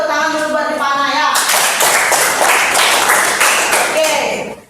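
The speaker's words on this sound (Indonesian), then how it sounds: "Oke, kasih tepuk tangan buat temannya." A classroom of students in a Hindu religion lesson clap for a classmate, lively hand claps breaking out after a moment of a teacher's voice and carrying on until they fade at the end.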